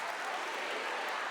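Audience applause fills a Pentecost camp gathering at Canção Nova, a steady, dense wash of many hands clapping continuously without a break.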